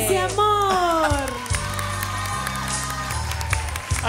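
A television studio audience bursts into loud applause and cheering with whoops, sustained under a host speaking over the noise.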